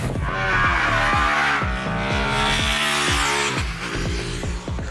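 Ducati Panigale V2 motorcycle at speed on a racetrack, its loud engine note rising and falling repeatedly through upshifts and downshifts, close and continuous with no talk.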